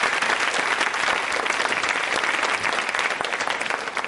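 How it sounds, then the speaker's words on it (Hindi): An audience at a college quiz show applauds to welcome a guest, a dense, steady wash of clapping that stays loud and even throughout. "तालियां जबरदस्त तरीके से बजाइए उनके इस्तकबाल में।"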